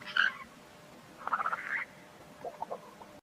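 Frogs call in a swamp, with a few short bursts of croaking spread over a few seconds against a quiet background.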